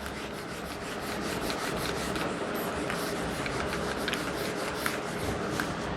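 Someone rubs writing off a classroom board with short, repeated scrubbing strokes. The rasping swipes are faint and come in a quick, uneven rhythm over quiet room noise.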